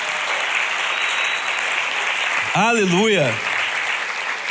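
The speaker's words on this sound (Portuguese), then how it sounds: "Se você puder, aplauda Jesus o mais forte." A church congregation claps steadily and loudly throughout, a continuous wash of applause, while a voice briefly calls out over it partway through.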